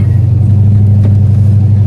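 A car engine fitted with a mild sport camshaft idles steadily nearby, a deep, even low rumble that holds through the moment without revving.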